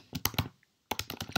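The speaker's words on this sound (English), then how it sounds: "I apologize for the sound of the typing." Quick, close clicks of typing on a computer keyboard come in two short bursts separated by a brief pause, with no talking.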